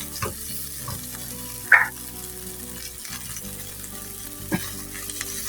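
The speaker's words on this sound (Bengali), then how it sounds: "এখন আমি ধনিয়ার পাতার সঙ্গে ভালো করে হচ্ছে ভর্তাটি মিশিয়ে নিচ্ছি।" Eggplant vorta mixed with coriander leaves in a pan, with soft scraping and stirring over a low steady sizzle and a few sharper clinks of a utensil against the pan.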